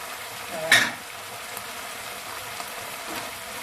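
Food with chili garlic and sugar is stirred in a pan, a brief scraping clatter at the start followed by a soft continuous sizzle with faint occasional ticks.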